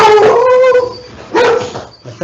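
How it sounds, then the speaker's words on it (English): Dogs barking and yipping up close in a home during an NHS trust annual general meeting call, a couple of loud excited barks with a whiny edge separated by a short pause. "even my dogs are enthusiastic about thanking them"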